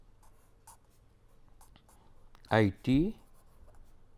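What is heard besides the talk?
writing an equation during a lecture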